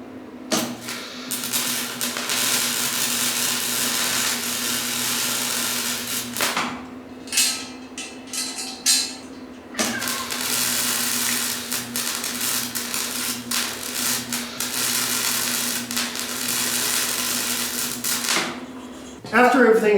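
Welding a steel hammock stand frame, a harsh continuous crackling buzz in long runs broken by short pauses, with a steady low hum beneath and a voice talking near the end.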